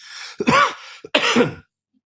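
Two harsh coughs from a man close to the mic, each a short burst with a little throat clearing, then silence.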